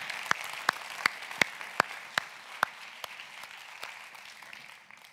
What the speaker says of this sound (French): qu'on s'applaudisse pour ça